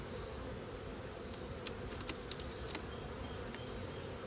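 Honey bees buzzing steadily around an open hive during an inspection, a dense close drone with faint clicks of frames being handled.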